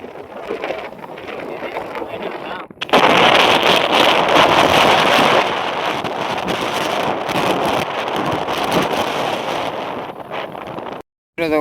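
Strong wind gusting through a sorghum field near Malpara, loud buffeting roar on the microphone that swells after a brief lull and holds steady, with a short dropout near the end.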